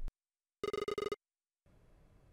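A telephone rings in the horror video game Red Bow: two loud, rapid electronic bursts with a brief pause between them, then a soft room hiss.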